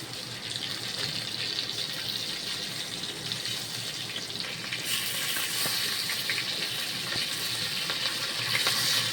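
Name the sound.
bangda (mackerel) fish frying on low gas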